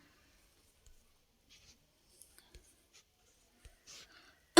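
Pen or pencil writing numbers on a class 5 math worksheet: faint, scattered scratches and taps across a quiet background, with a louder knock at the very end.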